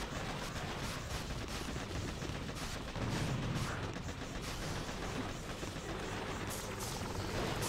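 Rapid bursts of game gunfire crackle amid explosive rumble and mechanical noise, steady and fairly busy throughout.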